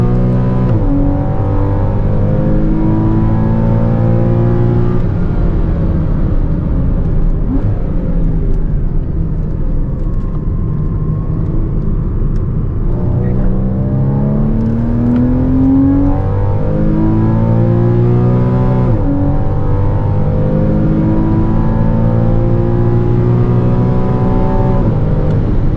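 A 2014 Porsche Cayman with a PDK gearbox and a naturally aspirated flat-six is driven on a track. The engine revs continuously and loudly, its pitch rising and falling through shifts, close and alone with no talk.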